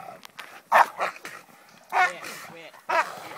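Several excited hunting dogs bark and yelp in short bursts at a trapped hog, fairly close, with whining between the barks.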